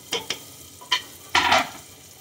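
Onions and tomato fry and get stirred in a claypot for dal tadka, giving short scraping stirs and bursts of sizzling, heard close with no talking.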